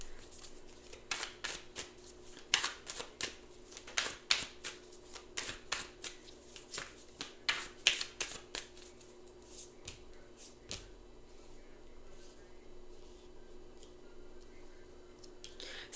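Playing cards are shuffled in a series of quick riffling bursts, close and crisp, tapering into quieter handling toward the end with no speech.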